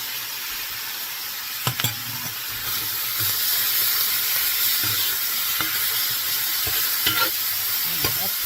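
Garlic sizzling with butter and onions in a cast iron skillet for beef stroganoff, a constant bright hiss of frying with occasional soft knocks and stirring scrapes close by.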